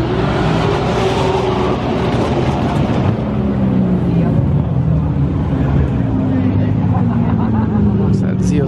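A Chevrolet Corvette Z06 at Mustang Week drives past, its engine note rising and then falling across the clip over a busy crowd and traffic backdrop, with voices talking throughout.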